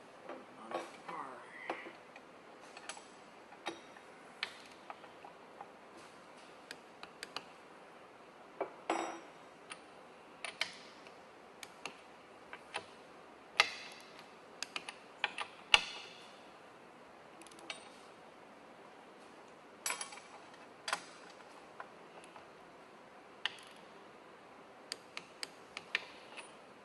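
A wrench ratchets and clicks in scattered short bursts while propeller bolts are torqued to 250 inch-pounds, the small metallic ticks close and fairly quiet over a near-silent background.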